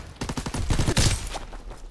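A short burst of rapid automatic gunfire from a teammate in Call of Duty: WWII, several quick close shots in a row, loud and then fading.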